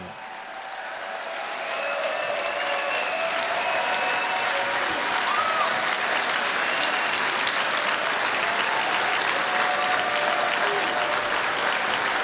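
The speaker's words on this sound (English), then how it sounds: "Everyone please stand and give a round of applause for the nominee for President of the United States, Governor Gary Johnson." Convention crowd at the 2016 Libertarian Party presidential nomination applauding the nominee, Governor Gary Johnson, swelling over the first two seconds into a loud, sustained roar of clapping and cheering voices that holds steady.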